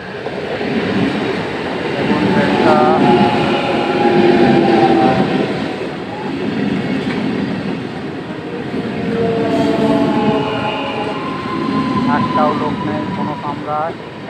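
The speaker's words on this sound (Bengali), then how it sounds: "স্পেশাল ট্রেন বন্দর স্টেশন ঢুকছে" A special train rumbles loudly into Bandar station, a continuous roar of wheels and engine with squealing brakes, while people talk over the noise.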